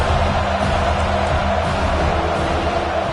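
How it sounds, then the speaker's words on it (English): Home crowd at an Alabama college football game against Wake Forest on Saban Field, roaring on third down: a loud, steady, dense wash of stadium crowd noise that holds throughout. "The Tide crowd rolling noise down on the Saban field on 3rd down"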